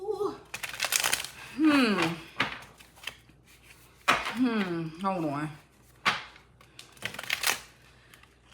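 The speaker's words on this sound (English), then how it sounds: "Let me move this off to the side and shuffle." Tarot cards being shuffled, short bursts of riffling and card slaps between stretches of talking, close and fairly quiet.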